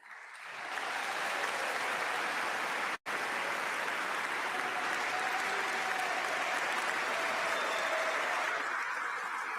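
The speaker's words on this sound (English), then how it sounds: "A standing ovation and thunderous applause from the assembled guests here in Oslo City Hall" Assembled guests in Oslo City Hall give a standing ovation after a Nobel Peace Prize lecture, sustained thunderous applause that swells in and continues evenly, with a brief cut partway through.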